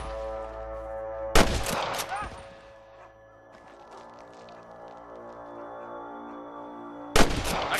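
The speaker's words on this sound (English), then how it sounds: "Hear more gunshots" Gunfire in the western video game Red Dead Redemption: a sharp, loud burst of shots near the start, another just after, then a quieter stretch before a final loud volley near the end, with game ambience underneath.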